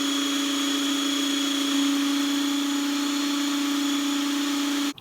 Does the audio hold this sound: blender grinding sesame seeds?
yes